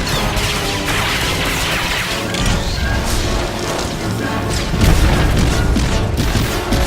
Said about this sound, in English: And with one last barrage of missiles,